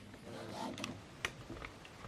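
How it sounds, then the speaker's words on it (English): An Epson XP-5200 printer's ink cartridge holder shifts into position with soft mechanical whirs and a few faint clicks, quiet and close. "and the ink holder will move"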